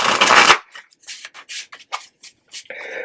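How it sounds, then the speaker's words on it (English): Tarot cards riffled in a quick burst of shuffling, followed by a series of short, separate slides and flicks as cards are drawn and laid out, close and crisp against silence. "I'm going to draw 3 cards."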